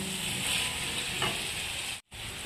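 Snake gourd frying in a pan with cumin powder and salt, a steady loud sizzle with stirring scrapes over a couple of seconds, briefly cutting out near the end.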